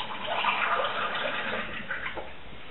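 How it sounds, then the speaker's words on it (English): Water pours steadily into a Led Zeppelin merchandise mug, a continuous close splashing and filling rush lasting a few seconds with no talk. "let's fill it up with some water."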